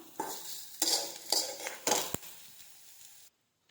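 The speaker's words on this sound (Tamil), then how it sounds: "இதுலேயே நம்ம வறுத்த வெங்காயத்தையும் இது கூட சேர்த்துடலாம்" Fried onions are added to a hand-mashed fried sambol mixture in a bowl: several close, sharp clinks and scrapes of a utensil against the bowl, spaced out, then sudden quiet.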